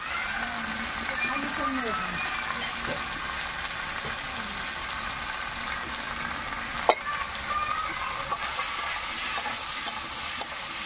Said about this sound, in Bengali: একটু নাড়াচাড়া করে নিই বন্ধুরা